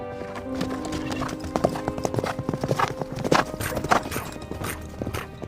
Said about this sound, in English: We hear the hoofbeats as the pair of horses take off down the mountain road.